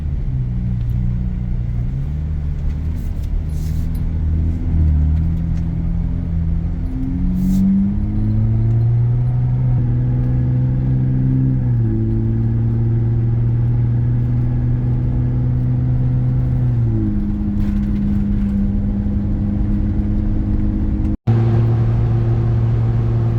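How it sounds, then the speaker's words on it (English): A truck drives down the road, its engine humming steadily with gear-like pitch shifts rising and falling, close and continuous throughout, with no talking. "Let's get a little just driving down the road action here."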